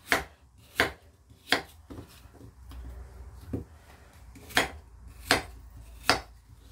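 A knife chops through slightly green apples on a cutting board, with about eight sharp, close thuds in an uneven rhythm over quiet background shuffling and no talking.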